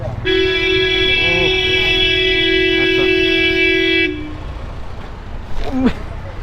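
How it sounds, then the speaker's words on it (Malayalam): A car horn blares in one long continuous honk for about four seconds in night traffic in Ooty, loud and close, with a brief second toot and faint voices near the end. "ഇന്നോവക്കാരെ നീങ്ങാത്തതുകൊണ്ട് താറുകാരെ ഹോണടിച്ച് മാറ്റിയാണ് കേട്ടോ"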